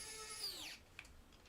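An electric screwdriver drives a screw into a Pironman case for a Raspberry Pi, giving a close, steady motor whine whose pitch bends and drops for under a second before cutting off into quiet.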